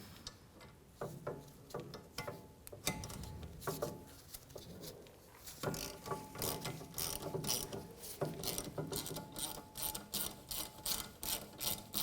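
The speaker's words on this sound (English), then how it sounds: "We're going to undo the bolt on the bracket and just move them up out of the way. We're going to use a 5/16 socket." A ratchet with a 5/16 socket clicks steadily while undoing a brake line bracket bolt on a 2011-2015 Chevrolet Cruze, with rapid close pawl ticks in uneven bursts of cranking throughout.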